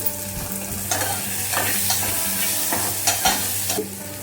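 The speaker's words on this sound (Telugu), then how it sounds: "ఇప్పుడు మాత్రం కొంచెం సాల్ట్ వేసుకొని ఆనియన్స్ని ఫ్రై చేసుకున్నాము." Onions frying in a pan with salt and curry leaves give a continuous close sizzle, broken by repeated scraping stirs of a spatula at an irregular rhythm; no voices.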